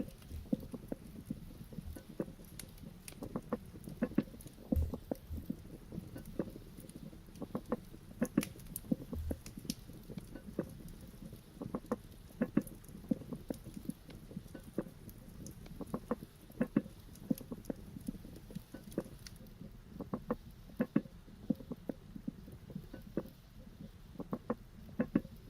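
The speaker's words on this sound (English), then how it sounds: "hearing the rain, man, feels good" Soft, steady patter of rain in a video game, a dense scatter of small irregular drops and taps continuing throughout at low volume with no voices.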